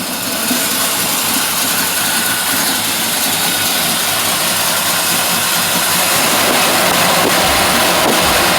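A car engine built with forged rods, crank and pistons idles low and steady, a dense continuous rumble running alone throughout, close and loud.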